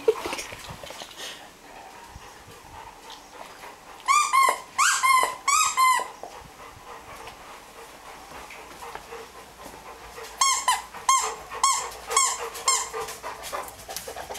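Dogs play with a squeaky hedgehog toy, giving two quick bursts of rapid, high squeaks, one near the start and one near the end, with panting and soft rustling in a quiet indoor room.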